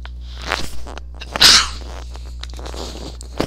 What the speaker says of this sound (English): I've got a sneeze.